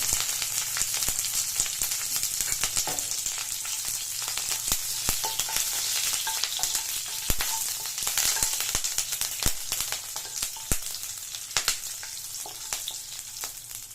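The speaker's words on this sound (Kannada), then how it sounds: "ಸ್ವಲ್ಪ ಕಲ್ಲಿ ಚೆನ್ನಾಗಿ ಫ್ರೈ ಮಾಡ್ಕೊಳ್ಳಿ ಲೋ ಫ್ಲೇಮಲ್ಲಿ ಇಟ್ಕೊಂಡು" Oil sizzling steadily in a pan on low flame with green chillies and cinnamon stick for egg sukka, a continuous crackling hiss with frequent small pops and occasional stirring clicks, close and even throughout with no talk.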